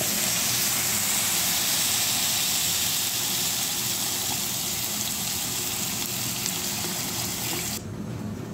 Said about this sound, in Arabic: الرز اتشوح خلاص، هنزل بقى بالميه بتاعي.